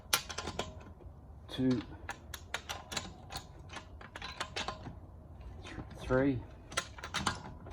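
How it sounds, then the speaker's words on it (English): Wrench clicking as wheel nuts are nipped up on a Polestar 2 space-saver spare, sharp ratcheting bursts and clicks spread between a man counting aloud. "now we're actually going to nip the nuts up"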